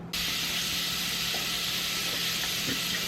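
Onions sautéing in a little oil in a pan: a steady, close, even sizzle with faint pops, continuous throughout.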